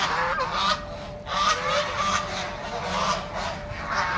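Radha ducks honk and quack loudly and repeatedly, close by, with overlapping nasal calls in irregular bursts over a low background murmur.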